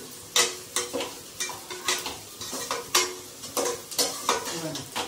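Potato pieces frying with salt in a pan, with a steady stir-and-scrape rhythm of a utensil against the pan over a soft sizzle, close and fairly loud.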